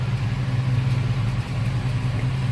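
A 1970 Chevrolet Nova with its original 350 V8 idles steadily nearby, a smooth, even low rumble with no revving and no voices.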